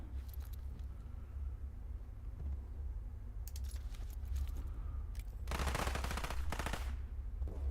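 Rapid bursts of infantry gunfire in a Cold War strategy video game, sharp crackling volleys rising and falling over a steady low rumble, loudest near the end.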